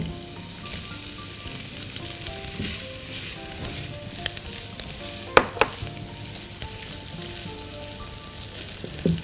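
Mushrooms fry steadily in a pan, giving a dense, even sizzle that runs throughout, with a couple of sharp crackles and pops standing out near the middle, close and loud with no voices.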